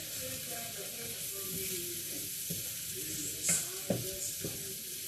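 Mushrooms sautéing in butter in a pan, with a soft steady sizzle and occasional stirring clatter. There is no talk.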